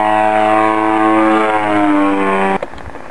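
Steady loud drone of a Turnigy 50cc model aircraft engine running close by, holding a rich buzzing tone that dips slightly in pitch before cutting off sharply near the end, with no talk.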